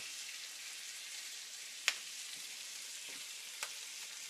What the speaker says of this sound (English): Onions are cooking. The sausage is getting browned.